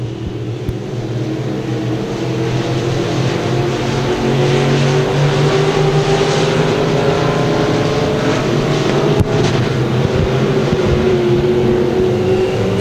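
Race cars in a heat race thundering past the flag stand, a steady, loud, close engine drone with rising pitch as the pack goes by, a sharp click partway through.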